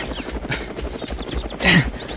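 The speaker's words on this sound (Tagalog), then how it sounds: "Bumaban ti helikopter." Helicopter descending over an island, a low pulsing rotor thump running steadily through the clip, with a louder burst of noise near the end and a voice faintly underneath.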